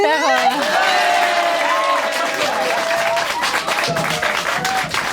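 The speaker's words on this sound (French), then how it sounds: "il faudrait peut-être applaudir très fort encore une fois Émilie" A studio audience applauds Émilie after a talk on diet and weight loss, the clapping dense and steady for several seconds with cheering mixed in and a voice speaking over it.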